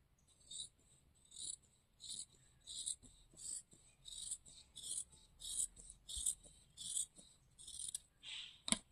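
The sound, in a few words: scissors cutting the sleeve portion of blouse fabric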